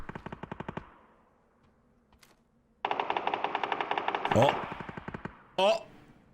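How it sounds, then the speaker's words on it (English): Rapid bursts of automatic gunfire in the battle royale game PUBG, a fast rhythmic volley at the start, a pause, then a longer sustained string of shots with a couple of sharp louder blasts near the end. "Black Panda hears shots ring out to the east."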